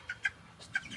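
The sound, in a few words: young chicks chirping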